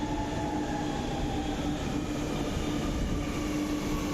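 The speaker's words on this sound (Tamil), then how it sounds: "ஆப்போசிட் ட்ரெயின் வந்துருச்சு." A Chennai Metro train rumbles into a platform, a loud steady roar of wheels and motor with a faint tonal whine running throughout.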